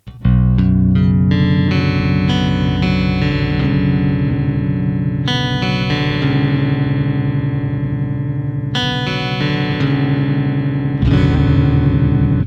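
Electric guitar strummed and picked through a Hypertune pitch-shifting effect set down 5, loud and continuous, with bright ringing chords restruck every few seconds.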